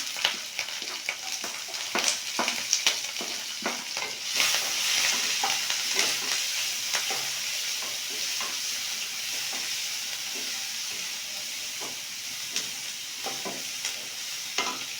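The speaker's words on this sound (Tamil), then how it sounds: "வெங்காயம் பச்சை மிளகாய் சேர்த்துக்குவோம்." Onions and green chillies sauté in a pan for semiya. A dense, continuous sizzle runs underneath frequent clicking and scraping stirs of a spatula, busier early on and then settling into an even crackle, close and fairly loud, with no talking.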